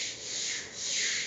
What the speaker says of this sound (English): So after we put the concrete edge, we're scrubbing the floor now.